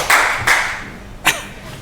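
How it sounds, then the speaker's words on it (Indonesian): A few separate claps from an audience at an inspirational talk event, three sharp hits spaced irregularly with quiet gaps between them. "Tepuk tangan dulu dong."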